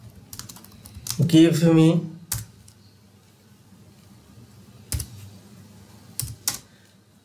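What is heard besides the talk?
typing on a computer keyboard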